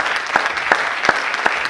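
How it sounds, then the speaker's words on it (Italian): Applause from an audience for an artist, a short burst of steady clapping with a few sharp, evenly spaced louder claps standing out above the wash. "un applauso, grazie"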